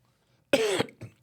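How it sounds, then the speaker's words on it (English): A single sharp cough, followed by a softer short second burst, picked up faintly through another person's microphone on a call, alone after a moment of quiet. "That was definitely a fail on muting your mic to cough because we heard you on my mic."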